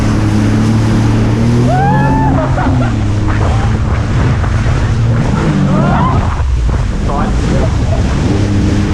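A jet ski crosses open water off a Malaysian island during a monsoon storm, its engine a steady droning whine under heavy wind buffeting the microphone, with a person talking over it.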